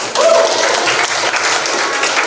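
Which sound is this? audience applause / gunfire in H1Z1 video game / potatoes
audience applause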